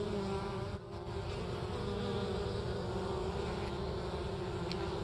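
Honey bees buzz around a hive in January in Mississippi, a steady droning hum with individual bees flying near, continuous and moderately loud with no speech.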